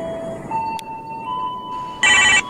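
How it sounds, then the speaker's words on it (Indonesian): A phone ringing in the video game GTA San Andreas: short electronic tones and beeps, then a loud burst of bright ringing near the end, with no talking. "Siapa nih yang telepon, ha?"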